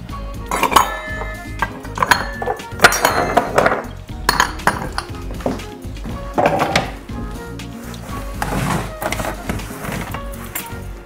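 Dishes, pots and cutlery clattering and clinking as a kitchen counter is cleared before making a salad, in close, irregular bursts of clanks and scrapes with brief pauses between them.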